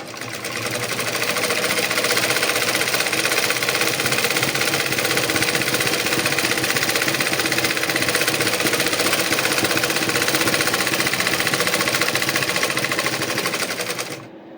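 A home sewing machine runs nonstop, a loud, dense, fast mechanical whir and rattle that holds steady for the whole stretch and then stops abruptly at the end.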